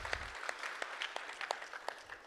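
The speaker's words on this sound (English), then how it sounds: "Can you guys give applause to our judges for their time here with us?" A modest audience at a college agricultural venture presentation claps for the judges, faint and sparse, with individual claps standing out in a loose rhythm over a quiet room.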